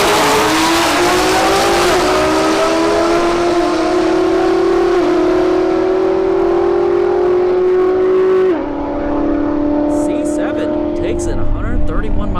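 A Corvette C7 Z06 drag racing a Camaro SS at a motorsports park, loud engines howling with climbing pitch and an abrupt gear shift partway through, fading toward the end, with an announcer talking over it.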